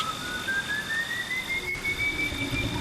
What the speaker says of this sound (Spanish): un espectro errante, un silbido en la bruma